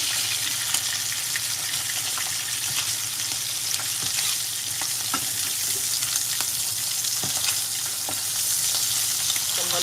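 Fish fries in a pan alongside sautéed papaya, a steady close sizzle with occasional crackles and spits throughout, no talking.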